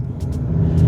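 A 2017 Mazda CX-5 diesel engine accelerates, a low, steady rumble that swells slightly over a brief moment, heard from inside the vehicle.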